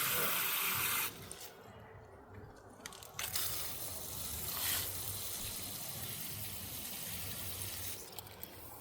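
Water pours steadily onto an autumn garden bed, a soft continuous splashing and trickling hiss that briefly eases and then resumes, close by with no talking.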